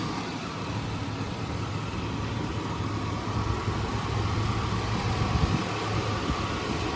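A 5.3-litre V8 in a 2004 GMC Sierra idles after a cold start, a steady, even mid-range rumble with a constant low hum, running alone at moderate level with no talk.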